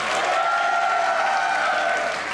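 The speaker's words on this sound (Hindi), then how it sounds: "जिनको लगता है मैंने अच्छा बनाया वो तालियां बजाएं" Studio audience of a comedy talk show clapping in a brief, dense, steady burst, with a faint held tone running beneath it.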